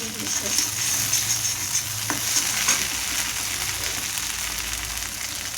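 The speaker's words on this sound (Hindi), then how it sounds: "हो गया है गरम और इसमें रखी गोभी।" Cauliflower frying in hot oil in a home kitchen, a steady close sizzle with soft crackles running throughout, no talking.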